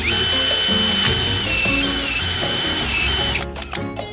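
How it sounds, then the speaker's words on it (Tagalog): A power drill bores a hole through a polycarbonate pergola part on a duplex terrace, whining continuously near and loud before the motor cuts off into a few short rattling bursts at the end. "Drill natin siya ng butas para masok yung pinakabutol niya."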